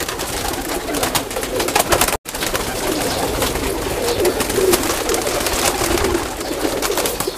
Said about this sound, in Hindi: डब वाले कबूतर हैं जो कमंगर भी कहते हैं, कदीम नस्ल है जी